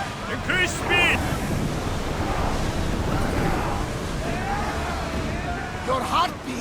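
Sea surf and wind wash steadily around a sailing ship in Assassin's Creed Odyssey, a continuous rushing roar with brief voices speaking over it.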